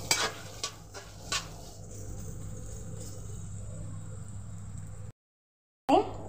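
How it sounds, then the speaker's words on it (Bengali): Onions fry in a kadai for chicken biryani, giving a low, steady sizzle with a few sharp spoon-against-pan stirring clinks near the start, then a brief silence before one more scrape. "পেঁয়াজটাকে ভেজে নেব।"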